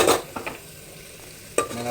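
Onion softly sautéing in oil in a pan while cooking khichdi, a low steady sizzle punctuated by a few sharp stirring scrapes at the start and near the end.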